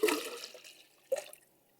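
Water poured into a Jetboil Sumo camp stove pot: a brief splashing gush, a pause, then a second shorter pour, quiet and close.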